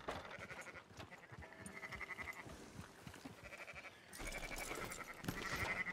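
Faint sheep bleats in the video game Red Dead Redemption 2 rise and fade a few times over a steady, noisy background.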